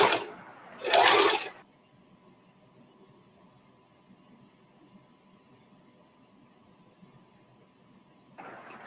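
A domestic sewing machine stitches fabric scraps in short loud bursts near the start. A long quiet stretch with a faint hum follows, then the machine starts again briefly at the end.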